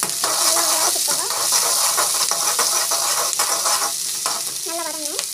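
Garlic and onion sautéing in hot oil, a loud continuous close sizzle and hiss with repeated scraping stirs of a spatula against the pan.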